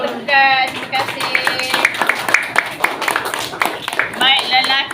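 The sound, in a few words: class clapping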